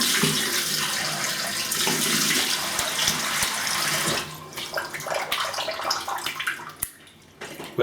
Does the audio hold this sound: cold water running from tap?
yes